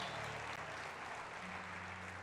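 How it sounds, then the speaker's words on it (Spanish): A church congregation applauding, a faint, steady wash of clapping that holds evenly throughout with a low hum beneath. "Denle un aplauso al Señor."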